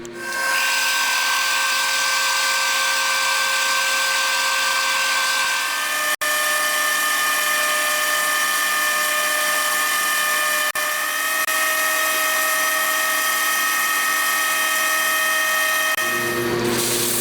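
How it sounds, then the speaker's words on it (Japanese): Lathe turning down the diameter of a steel main shaft for a homemade 125cc four-cylinder 16-valve engine, a steady loud machining whine with bright cutting tones running continuously for about sixteen seconds before stopping. "次は2番目に太いところに合わせて全体を削っていきます"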